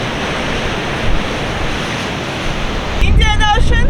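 Ocean waves at Cape Agulhas, South Africa, where the Indian and Atlantic Oceans meet, wash in a constant loud roar mixed with wind buffeting the microphone, and a voice starts speaking near the end.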